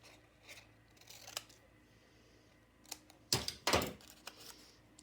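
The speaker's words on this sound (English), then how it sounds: "Just cut out a couple little shapes like this." Scissors snip through paper while cutting out small craft shapes, a few soft cuts early on, then two louder, closer snips near the end, with quiet room tone between.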